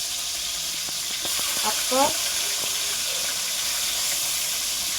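Food sizzles steadily in a hot frying pan at home, a close, continuous hiss with a few brief clinks and scrapes of stirring near the middle.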